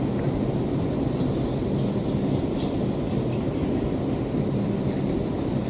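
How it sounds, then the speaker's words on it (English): A simulated Bronx-bound 1 subway train runs along its track in Minecraft, a steady, dense rumble of wheels and rails that continues without a break and with no talking. "We do have more track sounds as well."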